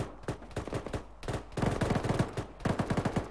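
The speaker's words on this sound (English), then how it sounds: "They're shooting at the vehicle." Bursts of automatic gunfire aimed at a vehicle in the military video game Arma 3, rapid clustered shots in uneven volleys, fairly loud and close, with no talk over them.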